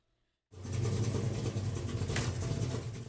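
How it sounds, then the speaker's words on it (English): Classic hot rod engines rev loudly at a Thursday car meet in an In-N-Out parking lot on a Torrance boulevard, a deep continuous rumble that kicks in after a brief silence and holds steady with surging throttle. "He is one of dozens of car lovers who rev up their engines every Thursday at the local In-N-Out on the boulevard"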